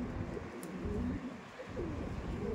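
Pigeons coo softly in low, rolling murmurs from a loft of tournament racing pigeons, repeated in gentle phrases over faint background noise without talk.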